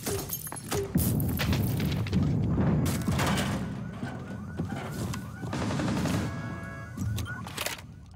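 Fuse's cluster charge detonating in Rainbow Six Siege, a rapid string of loud booming blasts and gunfire-like cracks filling most of the stretch, with a few sharper bursts near the end.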